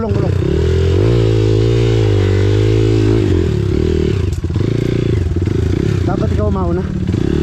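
A motorcycle engine rumbles loudly and steadily close by, its pitch shifting as it revs, with clattering and scraping while people talk over it.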